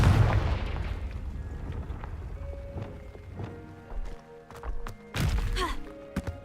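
A Confringo fire blast spell from Hogwarts Legacy bursts with loud booming impacts amid game music and effects, one heavy blast near the start and another powerful explosion late, with sharper cracks scattered between.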